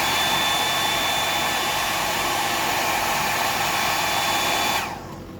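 Hair dryer blowing steadily on a freshly painted fishing lure, a loud close whooshing roar that cuts off abruptly near the end.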